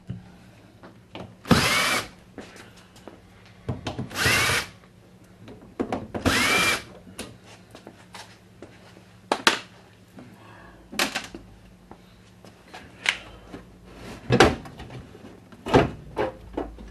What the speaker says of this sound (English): Let me go ahead and take this door loose